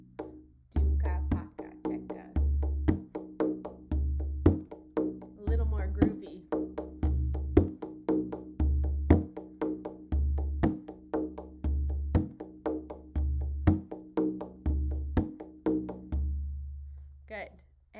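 Hand drum stroke combination played in double time, a fast steady stream of deep bass hits alternating with bright slaps and quick finger taps, close and continuous with barely any gaps.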